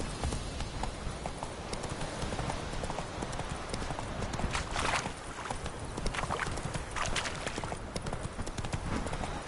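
Roach, a horse in The Witcher video game, gallops in a fast, steady clip-clop of hooves that runs unbroken throughout, with a faint voice now and then underneath.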